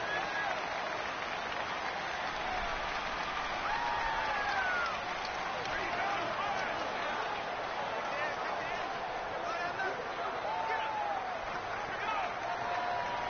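Stadium crowd noise in a football video game, a steady roaring wash of a large audience with faint whistling tones, heard under continuous announcer-style talk.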